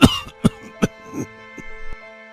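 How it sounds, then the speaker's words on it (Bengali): A cartoon character coughs loudly in a Bengali animated story, several harsh coughs in quick succession followed by softer rasping throat sounds. "আবার জোরে কাশি ওঠে"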